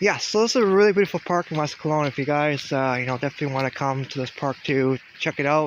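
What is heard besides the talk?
No distinct noise like a dog, phone or traffic.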